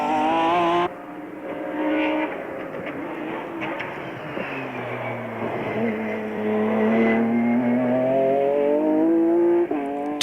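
A Mercedes CLK GTR race car roars around the Hockenheim circuit, a loud, high-revving engine whose pitch sweeps down and back up through gear changes and corners, sustained and close.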